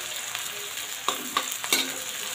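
Ginger-garlic-chili paste frying with onions and curry leaves in a pan for masala rice, a steady close sizzle broken by a few sharp scraping strokes of stirring.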